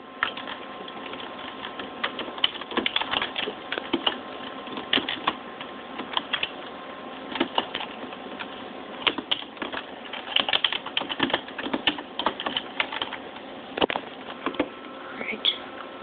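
Fast typing on a computer keyboard, a close stream of irregular clicky taps with brief pauses, heard alone at moderate volume.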